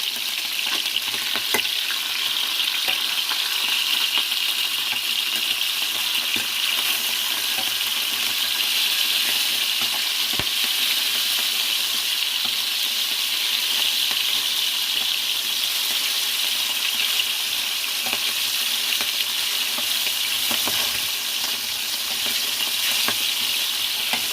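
Fish sizzles and fries in a pan with steady crackling hiss, interrupted by occasional sharp clicks and clatters, continuous and fairly close throughout.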